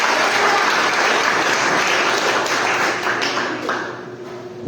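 Applause from a church congregation during an evening youth worship service, a dense, steady wash of many hands clapping close up that holds for nearly five seconds and thins slightly toward the end.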